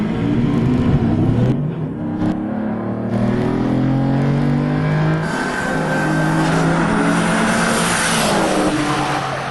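Cars, including a Lamborghini Diablo, launch in a drag race on a wet track, engines roaring and rising in pitch through gear changes with some tire squeal, loud and sustained.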